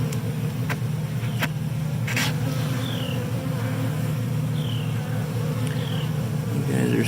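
Bees at a Flow Hive hum in a continuous close, steady drone with occasional faint passing buzzes and a few clicks, with no talking.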